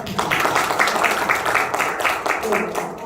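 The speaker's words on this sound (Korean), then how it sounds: "잠시 박수 한번 다시 부탁드릴까요?" Applause from an audience at a 2022 policy forum, a steady wash of clapping lasting about three seconds, with a voice speaking over it partway through.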